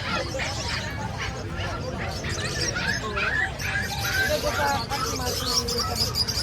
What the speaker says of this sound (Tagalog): Napakarami ng mga ibon po